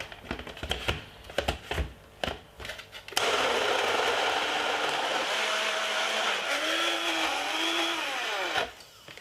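After some clattering and knocks, a blender making a mango and pineapple smoothie starts and runs loudly and steadily, its pitch shifting as it whirs before cutting out near the end.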